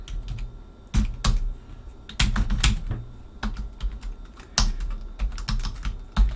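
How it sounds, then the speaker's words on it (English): A computer keyboard is typed on loudly and fast, dense clattering keystrokes with heavier thumps from the space or enter keys, close to the microphone with no talking. "I like typing loudly"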